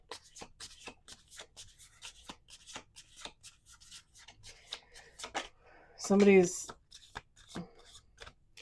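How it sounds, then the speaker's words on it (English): Cards riffle and flick in a steady run of quick crisp snaps. A voice briefly breaks in near the end, then the shuffling carries on. "Last shuffle."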